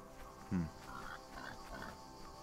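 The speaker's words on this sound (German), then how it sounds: "Jo, danke, ich verstehe dich, Schweinchen, Babe." A short, low pig grunt in the video game Die Young, then a few softer snorting sounds, faint and quiet.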